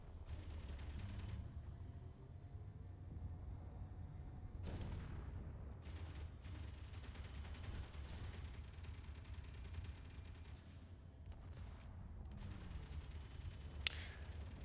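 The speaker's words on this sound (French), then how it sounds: "on peut directement tirer sur les vaisseaux" Spaceship guns firing in the game Space Engineers, heard as several bursts of sharp blasts separated by stretches of low rumbling engine drone, with no talking.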